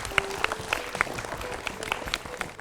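Scattered clapping from a small audience at a children's learning show, with sharp individual claps over a soft background, fairly faint and brief.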